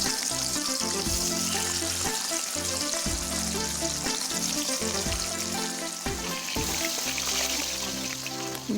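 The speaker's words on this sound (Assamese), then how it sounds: "তেলখিনি গৰম হোৱাত তাত মাছকেইটা দি ভালদৰে ভাজি লৈছোঁ" Pieces of fish fry in hot mustard oil in a wok, giving a steady, close sizzle throughout with faint clinks and gentle trickling sounds, and no one talking.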